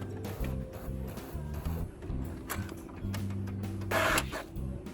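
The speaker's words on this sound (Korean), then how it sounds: "인쇄 테스트 품질, 인쇄 품질을 뽑아볼게요" Brother J2310 inkjet printer running a print quality test page, with a steady mechanical whir and a rhythmic, repeating clatter of the print head shuttling, close and fairly quiet.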